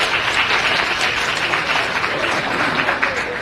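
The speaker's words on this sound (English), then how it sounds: "let's give them applause." Audience applause at a talk, a dense, steady burst of many hands clapping that carries on evenly throughout without pause.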